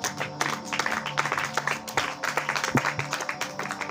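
A church congregation applauding the Lord during an evangelist's French sermon, with scattered, moderately loud clapping from the gathered crowd for several seconds.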